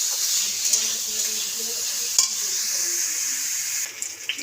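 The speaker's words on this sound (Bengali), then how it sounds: "তো একটু কড়া করে ফুলকপিটা একটু ভাজবে" Cauliflower fries in a pan with a steady, close hiss of sizzling oil throughout, broken by an occasional stir or clink, and no one speaks.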